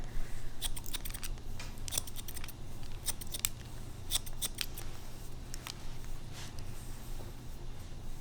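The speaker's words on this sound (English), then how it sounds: "just do a couple snips with the thinning shears" Thinning shears snip a boy's hair during a pompadour haircut: crisp, close metallic clicks in small irregular clusters, spaced about a second apart over a low steady background hum, with no speech.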